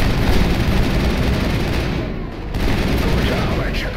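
Gunfire in the video game Mass Effect during a combat firefight, loud dense bursts of shots and booms filling the clip with a brief dip midway, no voices over it.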